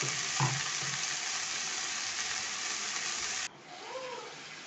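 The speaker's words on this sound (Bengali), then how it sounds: "শাকটা ভেজে নেব" Leafy greens frying in a pan give a loud, steady hiss with a few stirring knocks, then the sizzle drops sharply to a quieter level near the end.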